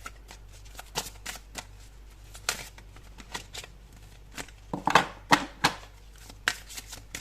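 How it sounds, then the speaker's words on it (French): Tarot cards are shuffled and drawn by hand, giving a run of crisp, riffling flicks and sharp snaps at an uneven rhythm, close and fairly loud against a quiet background. "On va prendre déjà une première carte."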